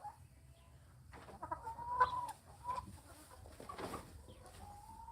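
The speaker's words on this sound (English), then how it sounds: "Weird chickens." Chickens from a new batch in a run cluck and murmur softly and close, a few clucks rising louder in the middle, over a quiet background hum.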